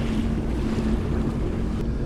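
A 1977 Great Lakes freighter ship pushes through lake water about 32 feet deep, making a steady, loud wash of churning water blended with wind noise and no pauses.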